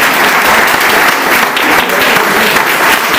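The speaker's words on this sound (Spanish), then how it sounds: "a la cual le pido un aplauso para que caiga en el cielo" Audience applause at a Vejer de la Frontera event, a loud, dense and steady clapping from a crowd filling the whole moment without pause.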